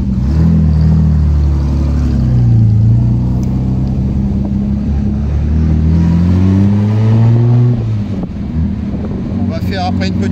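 An Austin Healey 3000 BT7 driven slowly, its engine a low steady rumble from inside the car that rises and falls with gentle throttle changes, with a brief clicking near the end.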